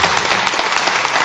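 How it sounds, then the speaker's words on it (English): Audience applause for a panel at a construction equity event: a dense, steady wash of many hands clapping, loud and close, filling the whole moment without a break. "Let's give our panel another round of applause."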